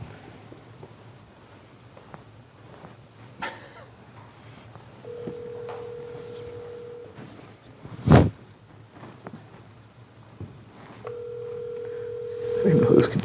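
A telephone call on a trivia game show: quiet line tones, a sharp click, then two sustained ringback tones separated by a pause, heard under low background talk.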